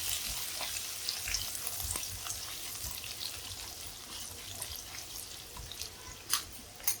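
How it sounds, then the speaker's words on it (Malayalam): Cashew nuts fry in a pan for a Kerala broken-wheat upma, a soft, steady sizzle with light scraping and a couple of sharper clinks near the end, fairly quiet and free of talk. "നമ്മുടെ കാഷ്നട്ടും എല്ലാം നന്നായിട്ട് മൂത്തിട്ടുണ്ട്"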